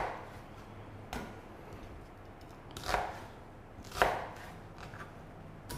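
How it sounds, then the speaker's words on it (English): Garlic cloves roughly chopped on a board, a few distinct knife strikes spaced irregularly over quiet background, close and crisp with no talk. "And just 3 garlic cloves, nothing fancy about it, just a rough chop."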